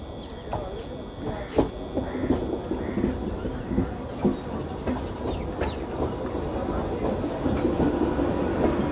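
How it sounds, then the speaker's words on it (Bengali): A crowded Shantipur-bound ICF-coach Bengal local train pulls into platform three at Kalinarayanpur Junction, with a continuous rumble, irregular wheel clicks and thumps, and faint station chatter in the background. "আমাদের শান্তিপুর যাওয়ার ট্রেনটি কিন্তু প্ল্যাটফর্ম নাম্বার তিনে এই মুহূর্তে ঢুকছে"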